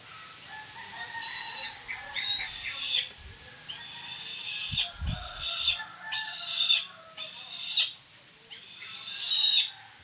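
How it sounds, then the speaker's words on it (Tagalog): A pet bird gives a series of short, whistled calls in bursts with brief pauses between them, close and clear, with no talking. "Huni pa siya ng huni oh."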